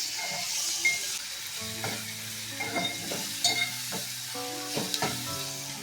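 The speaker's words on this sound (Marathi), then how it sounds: "आता भाजीला फोडणी देऊन घेते पटकन" Spices for a moth bean (matki) curry crackle and sizzle steadily in a hot pan, with occasional sharp stirring clinks and scrapes standing out over the continuous hiss.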